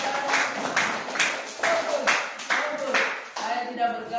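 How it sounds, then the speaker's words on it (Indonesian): A small group at a coaching session claps in unison, a series of about eight distinct, rhythmic bursts of hand claps spaced roughly half a second apart, with voices mixed in. "tepuk tangan untuk kita semua"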